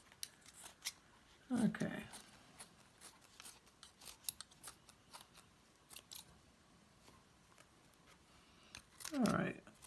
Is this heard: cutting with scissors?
yes